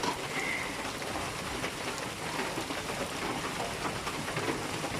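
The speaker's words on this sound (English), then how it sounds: "It still has rain, but only rain shower." Steady rain pours down during the rainy season in Siquijor, Philippines, where motorists shelter from a shower; a dense, continuous hiss of falling drops spattering on surfaces, close and even throughout with no voices.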